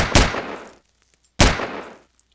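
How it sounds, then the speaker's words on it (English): Two loud, sharp gunshot blasts from TSP mod weapons in Garry's Mod, each with a decaying tail, spaced about a second apart with silence between. "these are my favorite guns, the TSP guns"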